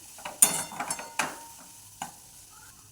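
Cluster bean chutney (thecha) being stirred in a pan, with a few sharp scraping clacks of a spoon against the metal over a faint background sizzle, spaced irregularly.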